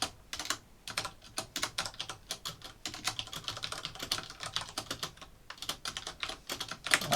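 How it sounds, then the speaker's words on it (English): Fingers tap quickly on a computer keyboard, a close run of crisp, irregular clicks with short pauses, with no one speaking. "I'm typing in the wrong thing"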